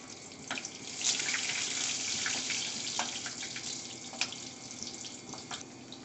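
Green chillies fry in hot oil with crisp garlic for a karisilangani keerai gravy, giving a quiet, steady hiss of sizzling broken by scattered small pops and crackles, without any talking.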